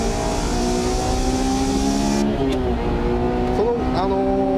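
A Spoon-tuned Honda Type R accelerates out of a corner on a race track, its engine note rising steadily and loud from inside the car.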